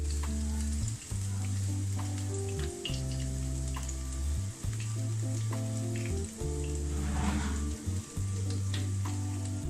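Potato chicken triangles frying in hot oil, a dense steady sizzle and crackle that stays loud and close the whole time, with brief dips and small pops, no voices.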